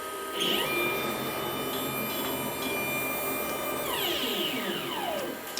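CNC router (TRBCNC CRP-2448) axis motor driving the gantry, a steady loud whine with rising and falling tonal sweeps as it accelerates and decelerates, heard alone for several seconds.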